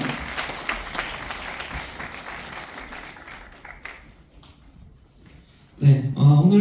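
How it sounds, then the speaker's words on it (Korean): An audience at a panel discussion on redevelopment and reconstruction applauds steadily, the clapping fading out before a voice begins speaking. "여러분 박수로 함께 환영해 주시면 고맙겠습니다"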